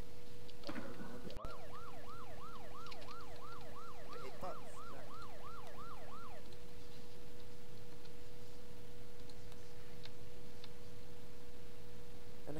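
A fire truck's rapid warbling undercover siren wails for about five seconds, loud and close, then cuts off, leaving a steady tone and quiet background.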